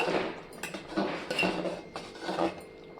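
Pulao is stirred in a pot and the lid is set on, giving a few close metallic clinks and scrapes in uneven bursts.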